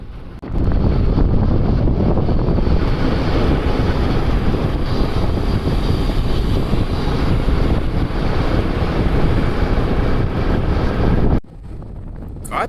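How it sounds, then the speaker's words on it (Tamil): Strong wind buffets the microphone during a Yamaha RX100 motorcycle ride on a hill road to Bodhamalai: loud continuous roaring rumble that persists almost throughout, then cuts off abruptly near the end. "காத்தினுடைய சத்தம் இன்னைக்கு என்ன அதிகமாக இருக்குதுங்க."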